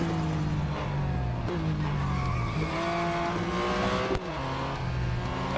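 Car tires skidding and squealing in the racing game Real Racing 3, with sustained engine drone and tonal tire squeal sweeping in pitch across the clip, loud and continuous with no speech.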